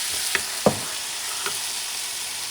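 Grated tomato sizzles in a pan with garlic, giving a faint, steady frying hiss with a few soft clicks and pops from stirring, close and without talk.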